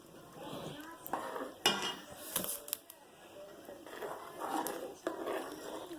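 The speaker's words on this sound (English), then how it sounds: "I'm just stirring it around." Shrimp gumbo with vegetables in a thick broth stirred in a pot, soft clinks and scrapes of a utensil against the pot in uneven bursts, fairly quiet and close.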